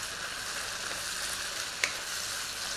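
Vegetables for a lettuce wrap filling sizzle in a hot pan with a steady, bright crackle, close and even, and one brief louder clink as they are stirred.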